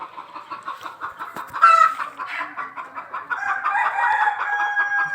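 Native free-range chickens on a livestock farm clucking close up, a busy run of rhythmic clucks with a louder squawk partway and overlapping calls building toward the end.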